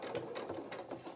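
A sewing machine stitches felt for a stuffed otter's head, its needle running in a steady, rapid mechanical rhythm, close and clear with no talking.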